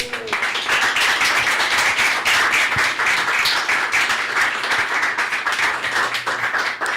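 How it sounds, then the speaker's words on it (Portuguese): Audience at a 2017 political science conference at IESP-UERJ applauds the organizers with steady, close clapping from many hands that holds at a level volume throughout. "Realmente, eles merecem uma salva de palmas."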